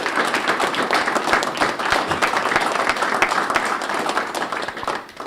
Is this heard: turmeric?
no